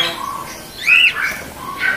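Firetail finch in an aviary, a few short, high squawking calls close by, with a brief pause between them.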